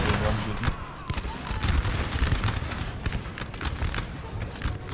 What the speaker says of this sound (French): Ouais, c'est les nouveaux tirs ça.